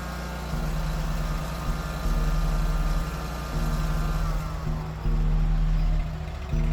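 Wright commercial mower engine, freshly fitted with new cylinder heads, revving repeatedly between idle and higher speed in loud, steady steps with strong low harmonic drone, no talking.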